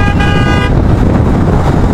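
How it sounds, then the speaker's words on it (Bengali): An ambulance sounds a short, loud horn blast on a highway while a Hornet 2.0 motorcycle rides nearby, the toot cutting off quickly into rushing wind and road noise. "ও আমাকে হর্ন দিয়েছে"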